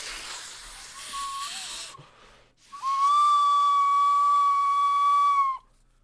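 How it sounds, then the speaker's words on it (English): A homemade glovepipe, a set of bagpipes built from a glove with a tin whistle as the chanter and straws as drones, sounds a brief reedy note, falls quiet, then holds a loud, steady, piercing tone with overtones for about three seconds. "I bet if I just put my tin whistle into one side, then this will be, like, in tune"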